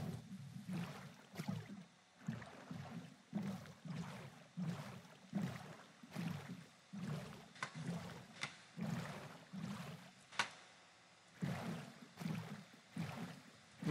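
Boat paddling across water in Minecraft, a steady series of soft splashing strokes repeating roughly every half second to second, fairly close, with no talking.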